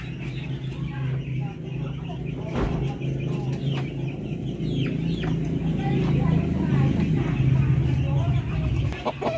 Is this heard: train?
no